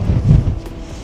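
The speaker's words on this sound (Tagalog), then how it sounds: "lakas ng hangin, no?" Strong wind at the Giant's Causeway roars and buffets the microphone in a steady, low rumble, loud and close throughout.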